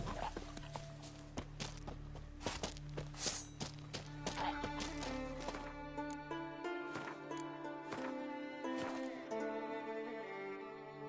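Hoofbeats of a horse in The Witcher 3, a series of distinct clip-clop thuds over a low droning game music bed, fairly close and steady before thinning out.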